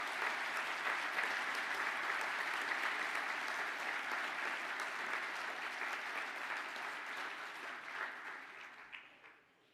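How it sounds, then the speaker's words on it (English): Graduation ceremony audience giving a round of applause for an engineering class, sustained even clapping from a large room that holds steady and then fades out at the end. "Can the class of Industrial Engineering now please stand up for a well-deserved round of applause?"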